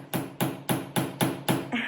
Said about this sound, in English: hammer that nail into the top of the water bottle cap